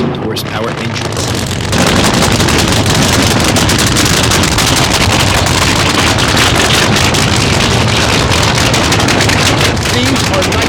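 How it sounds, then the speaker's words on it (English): Nitro-burning funny car drag racers with 4,000-horsepower engines at a night event, roaring in a loud, sustained, harsh blast that fills everything after a brief quieter start, with a voice speaking over it. "These are nitro-burning funny cars, the most dangerous forms of motorsport."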